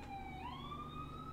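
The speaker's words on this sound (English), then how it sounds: "Ambulance going by." An ambulance siren wails as it passes at a distance, its tone rising and shifting in pitch, faint and steady with no talk.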